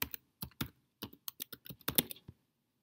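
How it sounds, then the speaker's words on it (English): Fingers type a password on a computer keyboard, a close, quick burst of uneven key clicks in small clusters, ending in silence. "I type a new password in here"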